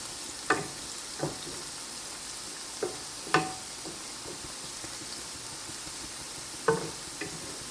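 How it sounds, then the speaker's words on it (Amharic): Quiet sizzling of garlic and ginger in a pan with a few sharp clinks and scrapes of a utensil stirring, spaced irregularly; no talking. "እዚህ ጋር አብረን ማቁላላት እንችላለን ከፈለጋችሁ።"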